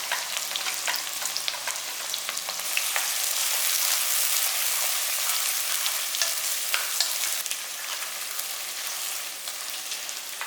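Big onions sizzle and crackle steadily as they fry in a pan for a coconut milk ghee rice, a dense, close frying hiss with scattered pops that rises after a few seconds and holds, with no talk.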